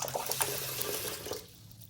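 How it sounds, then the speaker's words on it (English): Water runs steadily from a tap into a sink while a game controller is washed with a toothbrush and soap, a continuous close splashing hiss that cuts off near the end. "Get a little bit more water in here."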